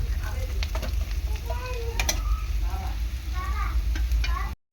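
Onions frying in leftover fish-frying oil with extra oil and spices, a loud continuous sizzle with scraping stirring strokes close by, ending abruptly.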